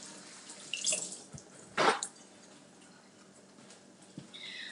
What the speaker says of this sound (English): I just rinse it underneath some water to get the rest of it out